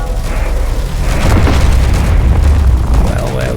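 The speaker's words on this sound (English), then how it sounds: "let's fire our main railgun battery and see what happens" Heavy booming blasts from a battleship's main railgun battery in the Space Engineers game, loud and continuous with rumbling low end across the whole stretch, a voice talking underneath.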